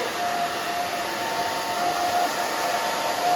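A hair dryer blows steadily on hair being dried with a round brush, a loud close whoosh with a constant high whine and no breaks.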